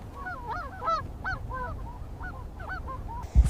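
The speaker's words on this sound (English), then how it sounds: "geese still screaming overhead" Geese over an Arctic tundra nesting colony give repeated harsh, overlapping honks, loud and close above a steady wind-like rumble, ending in a short thump.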